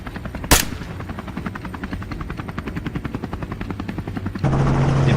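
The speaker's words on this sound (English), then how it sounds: "It bolts as the chopper roars overhead." A helicopter on a hog hunt over farmland thumps steadily with fast rotor chopping, a sharp crack early on, and the whine swelling as the aircraft passes close overhead.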